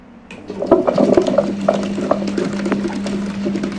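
A motorised wet grinder grinding soaked soya for idli batter starts up and runs with a steady low hum and a churning, wet grinding texture, close by and constant.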